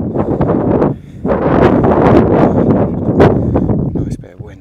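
Wind buffets a microphone on a hillside in the Lake District. The blustery rumble is loud and close, rising and falling in gusts, and a voice speaks underneath.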